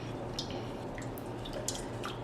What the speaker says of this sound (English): we're just going to stir that to make sure that that's all dissolved in the water